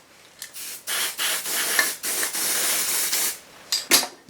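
Bursts of aerosol spray hiss onto a cone wrapped in PTFE and insulating tape, several sustained sprays of about a second each separated by short pauses, close and loud.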